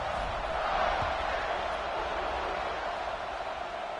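A stadium crowd in the NCAA 26 college football video game gives a broad, steady roar of cheering before a kickoff, with a faint thump near the start.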